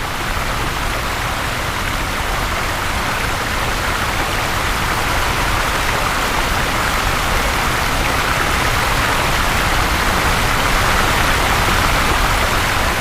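A spring waterfall on Jiri Mountain rushes in a steady, dense, broadband roar, continuous and fairly loud throughout with no pauses or voices.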